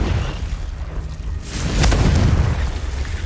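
Confringo fire blast spell from Hogwarts Legacy, a loud booming explosion bursting partway through over a low rumbling game background, then a rolling, crackling tail.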